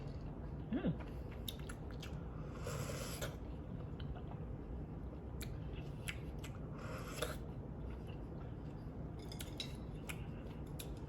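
Close-up chewing and biting of keto shrimp and noodles, soft crunchy mouth sounds repeating in bursts over a steady low room hum, with no talking.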